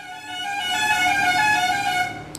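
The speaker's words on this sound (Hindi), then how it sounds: "बगल में गाड़ी आ जाती है तो हॉर्न आ जाता है" A car horn honks from a vehicle passing close by, one steady blast held for about two seconds, loud with a bright harmonic tone, and no speech over it.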